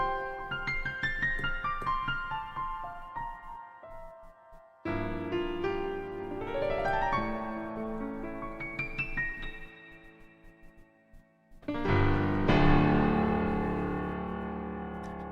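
A Yamaha Montage digital keyboard plays rich, evolving synth tones in three phrases of sweeping, layered notes with reverb-like tails, moderately loud and alone, the last phrase swelling in fullness.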